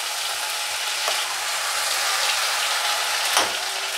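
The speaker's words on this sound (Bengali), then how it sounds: "এবার ভাজতে হবে মশলাটাকে" Spice paste frying in hot oil in a pan while making palak paneer kofta, a steady even sizzle with a couple of brief sharper crackles, close and moderately loud.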